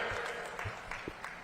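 An audience at an outdoor political rally in Janjgir-Champa, Chhattisgarh claps to welcome the chief minister, with a brief burst of scattered, fairly faint applause.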